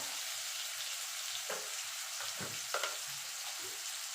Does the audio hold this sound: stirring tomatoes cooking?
yes